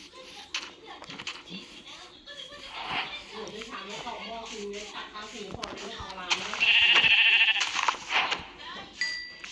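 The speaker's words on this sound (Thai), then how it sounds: "เจอแกะแล้วหนึ่ง" Sheep in the game Minecraft bleat several times over a busy stretch of gameplay, with one louder, sustained bleat near the end, while a person talks throughout.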